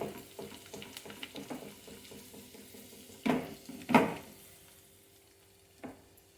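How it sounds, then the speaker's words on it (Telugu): Tempering spices and dried red chillies fry in a pan for a jackfruit curry, giving a soft, faint sizzle with a few sharper pops and clinks of stirring, and no voices. "తర్వాత పోపు దినుసులు వేగిపోయాయి"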